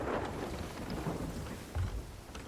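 A video game thunderstorm rages in the Roar region of Sea of Thieves, with steady rain and a deep rolling rumble of thunder and a heavier low boom near the end, all at moderate loudness with no voices.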